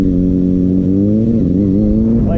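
A motorcycle engine is held steady on the throttle, giving a continuous, close, mid-pitched drone that wavers slightly in pitch near the end, with no talking.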